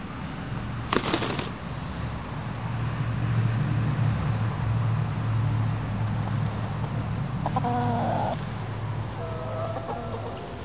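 Backyard chickens cluck and murmur steadily at moderate distance, with a few brief sharper calls and knocks breaking in, and no one speaking.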